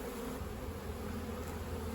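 Honey bees hum in a steady, dense buzz around an open beehive full of brood, close and continuous without talk.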